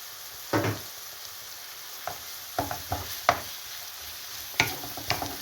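Chopped red peppers and a hot red chili sizzle in a frying pan, with a steady soft fry punctuated by several sharp stirring scrapes and clacks, no talking.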